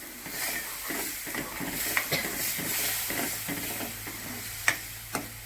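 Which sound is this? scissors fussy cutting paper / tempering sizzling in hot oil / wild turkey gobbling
tempering sizzling in hot oil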